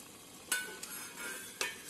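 Wheat lapsi cooking over a low flame with cinnamon and cloves just added, faintly sizzling as a spoon stirs it, with two or three soft scraping strokes against the pot and no voices.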